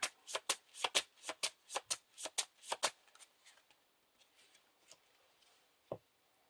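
Playing cards riffled rapidly during a Lord of the Rings card game, a quick run of about a dozen crisp flicks close by, then fading rustles and one final soft tap.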